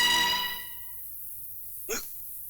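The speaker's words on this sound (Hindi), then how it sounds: "ये खाने की हिचकी नहीं है" One short, soft hiccup comes from a person in a quiet domestic scene, heard alone after a fading tone.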